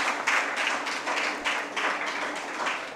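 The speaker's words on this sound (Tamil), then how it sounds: "அந்த டாக்டருக்கு நம்ம ஒரு கைத்தட்டலை கொடுத்து வந்துட்டு செய்யலாம்" An audience at a national nutrition month awareness seminar claps for a doctor, a steady patter of many hands in moderately loud, even waves over three seconds.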